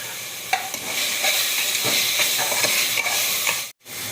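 Tomatoes sauté in a hot pan for mutton biryani, giving a steady sizzle broken by scraping stirs and a brief cutoff near the end.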